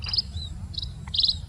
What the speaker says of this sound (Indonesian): Itu suara burung pipit.